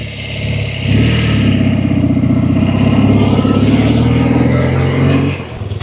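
A 1977 BMW R75/7 motorcycle engine fires up after a brief pause and settles into a steady, loud, throbbing run close by, its even pulsing rhythm holding for several seconds before easing off.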